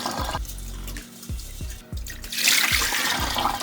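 White rice being rinsed in a sink, with water splashing and gurgling in a series of bursts, low sloshing thumps recurring roughly every half second, and a brighter hiss of running water swelling toward the end.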